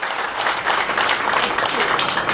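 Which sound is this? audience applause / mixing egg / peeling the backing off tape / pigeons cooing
audience applause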